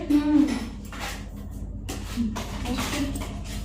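Plates are taken out and handled in a home kitchen, with ceramic clinks and scraping clatter close by while a person talks over them.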